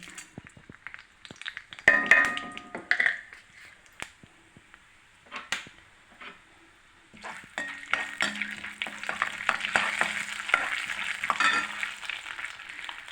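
Mustard seeds, cumin and urad dal crackle and sizzle in hot oil for a Tamil capsicum stir-fry, a short burst of popping early on, then a steady, busier frying hiss with clinks of a spoon in the pan.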